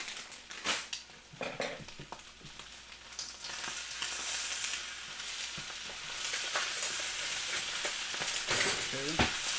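Carrots go into pork fried rice frying in a hot pan, giving a steady close sizzle with repeated scraping stirs and light clinks of utensil on metal, growing denser toward the end, with no talk.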